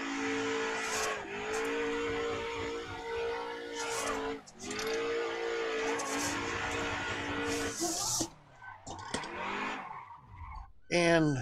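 Car tires squealing in long sustained screeches while drifting in a racing video game, engine revving loudly underneath, the squeal breaking off and returning several times before ending in a scattering of skids.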